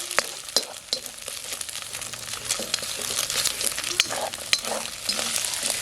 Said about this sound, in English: You just break the fried egg up like so.